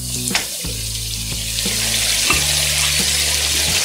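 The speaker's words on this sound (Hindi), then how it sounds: "चलिए, 2 मिनट हो गए इसको फ्राई होते हुए" Aloo gosht, meat and potatoes, frying in a pan with steady broadband sizzle, a few stirring scrapes, and a low background hum, with no voices.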